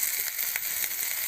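Potatoes fry in a pan for Maggi noodles, giving a steady, close sizzle with faint crackles and no talking.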